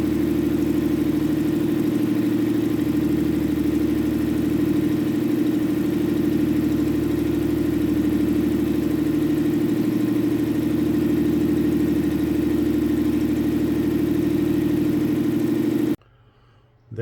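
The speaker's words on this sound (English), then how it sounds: "Okay, now we can start the generator, set the frequency, then check our voltage and set that." A 3-phase 230/400 volt generator runs at a steady drone with a strong low hum and slight periodic pulsing, continuous and close, then cuts out abruptly near the end.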